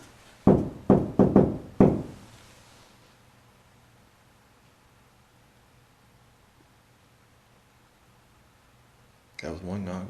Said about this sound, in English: I'm gonna do that knock again if you'll do it with me.